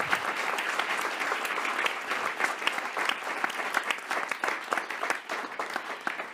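An audience at a Monaco Ocean Week event gives sustained applause, a dense, even patter of many hands clapping that eases slightly toward the end.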